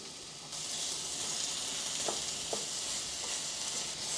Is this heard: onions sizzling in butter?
yes